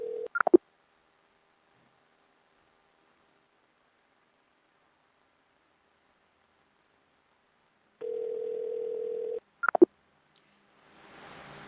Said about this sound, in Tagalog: Bakit ayaw sagutin ni Jacob ang telepono?